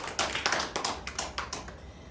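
Congregation applauding during a Sunday church worship service, a dense run of overlapping claps with rhythmic surges, moderately loud and close, with no talk over it.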